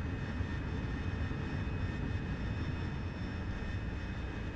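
An AV-8B Harrier's jet engine roars at takeoff in the DCS flight simulator, a dense, steady, loud whine and rumble holding throughout with no speech.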